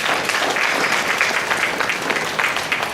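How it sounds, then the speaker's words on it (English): Steady, dense applause from the audience at a middle school honors night banquet, close and fairly loud, a sustained patter of many hands with no voices on top. "Let's give him a round of applause."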